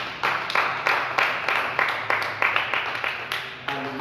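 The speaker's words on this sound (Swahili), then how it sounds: "Pigia Yesu makofi." A church congregation claps hands for Jesus during a worship service, about a dozen sharp, fairly steady claps in a loose rhythm that rings out alone over a faint background.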